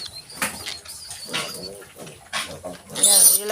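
Piglets about 23 days old and their mother pig grunting and squealing in short, scattered bursts close by, with a person talking intermittently between the animal calls.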